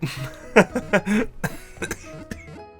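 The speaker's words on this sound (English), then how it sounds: "Laughing so hard that I get into, like, a coughing fit." A nearby person goes through a coughing fit brought on by laughing hard, a string of harsh irregular coughs breaking up faint background noise.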